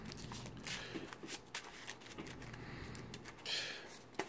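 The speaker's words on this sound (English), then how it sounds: "we're going to go ahead and shuffle our deck up" A deck of cards is shuffled up close before a tabletop board game, giving repeated riffling bursts of crisp, papery flutter with short pauses between them.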